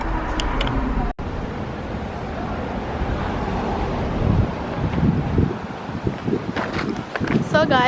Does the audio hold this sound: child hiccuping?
no